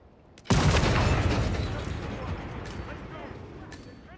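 A remote explosive detonates in Hitman 3, a sudden loud blast followed by a long rumbling decay that slowly fades, with game sounds continuing underneath.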